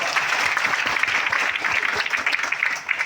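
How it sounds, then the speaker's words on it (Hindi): A seminar audience in Godda, Jharkhand, claps loudly and continuously, a thick, close burst of applause filling the room before it eases slightly at the end. "ताली बजना चाहिए।"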